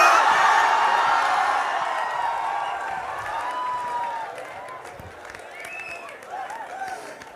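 A comedy show audience applauding, a broad wash of clapping that starts loud and gradually fades, with a few scattered voices and whoops near the end.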